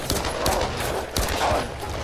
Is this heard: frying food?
no